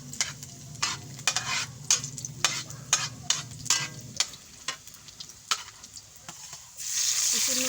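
Garlic frying in a clean pan, with sizzling broken by repeated scraping stir strokes at a steady rhythm, then a louder steady sizzle near the end; close and distinct, no talking.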